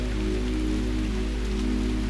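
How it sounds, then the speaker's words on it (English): Steady rain falls outside a castle room with large windows, raindrops running down the panes; a continuous, even patter and hiss with a low background hum, no voices. "listen to the rain as it continues to fall outside"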